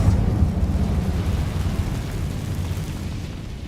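Incendio fire spell cast in Hogwarts Legacy: a loud, deep rumbling whoosh of flame that bursts at once and then slowly fades, with no voices.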